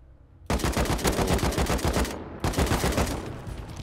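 Sustained AK rifle fire from the survival game Rust, a loud rapid burst of automatic shots starting abruptly and continuing with a brief gap before another long volley, no talk over it.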